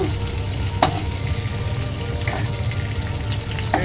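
Beans, okra and capsicum sautéing in a pan give a steady sizzle, broken by a few sharp spatula scrapes and stirs; no voices.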